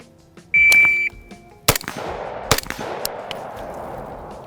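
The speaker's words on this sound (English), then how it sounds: "2 shots with the timer, low ready with the ACOG." A shot timer's steady electronic beep, then two sharp, loud rifle shots about a second apart, fired from low ready through an ACOG-topped rifle, each crack trailing off in outdoor reverberation.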